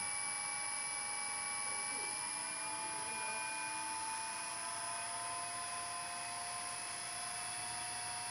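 A three-phase electric motor runs at a fixed speed under a frequency inverter, giving a steady high-pitched whine with stable tones and an even hum beneath, continuous and unchanging throughout, no speech over it.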